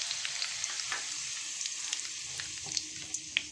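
Mustard seeds and curry leaves sizzle and crackle steadily in hot groundnut oil in a kadai, a close, continuous hiss dotted with sharp pops.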